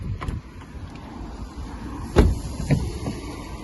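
A Mazda CX-30 2.0 e-SKYACTIV X MHEV GT Sport unlocks, giving a sharp mechanical clunk followed by a softer second click over low background rumble, with no voices.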